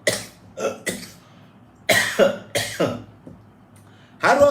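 A man coughs repeatedly in rough, hacking bursts, several close, loud coughs in quick pairs with short pauses between them, ending in a heavier fit.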